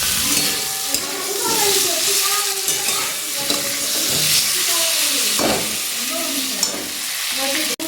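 Boiled potatoes fry and sizzle in a pan as they are stirred with a spatula, the steady hiss of oil punctuated by scraping and stirring strokes throughout.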